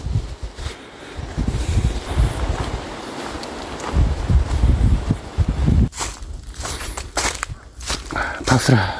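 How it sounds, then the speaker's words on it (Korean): Crunching footsteps through dry autumn leaves on a mountain fortress trail at Geumjeongsan, steady and close, with wind buffeting the microphone and a voice speaking over part of it. "바스락합니다. 말라가지고."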